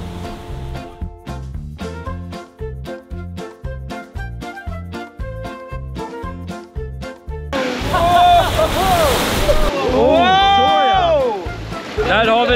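Water drenches riders on a Liseberg amusement-park water ride: a rhythmic pulsing stretch of music and motion gives way at the midpoint to a loud, broad rushing splash, with excited voices shouting over the churning water.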